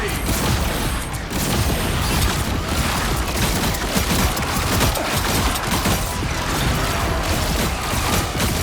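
Rapid gunfire and blasts crackle densely through a Marvel Rivals battle, a loud, continuous barrage of shots and mechanical clatter with game voices calling out beneath the din.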